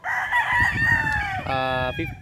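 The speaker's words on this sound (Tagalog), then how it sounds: "yan yung mga manok dito. Yun yung breeding area nila." A rooster crows loudly at close range among clucking chickens in a farm breeding pen, the long harmonic crow followed by a second shorter call.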